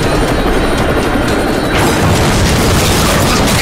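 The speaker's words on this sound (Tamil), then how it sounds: "அதுக்கப்புறம் வந்து ஹெலிகாப்டர் வந்து வெடிக்க போகுது" A helicopter blows up in an Indian action film climax: a very loud, sustained blast of booming, crashing noise that shifts into a fuller roar partway through, with no talking.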